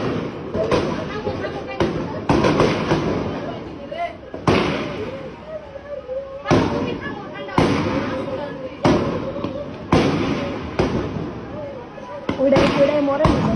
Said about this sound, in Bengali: আর গুলি লাগছে